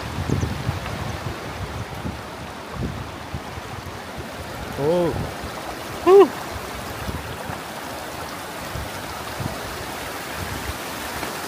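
A mountain stream on a Kyrgyzstan trek through the Ala-Kul pass to Altyn-Arashan flows with a constant close rushing babble, mixed with wind buffeting the microphone and brief exclamations from a person.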